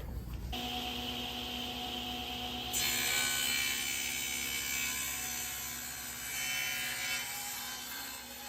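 A table saw cuts a mortise into a wooden table leg held in a jig, starting with a sharp whine and then grinding steadily through the wood for several seconds, heard close and with no talk.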